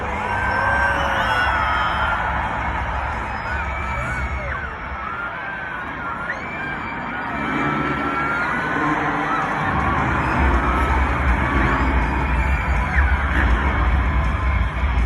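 A large arena crowd at a Monster Jam show in Cleveland's Rocket Mortgage Fieldhouse cheers and screams loudly and continuously, with whoops and children's shrieks rising over a dense, sustained roar.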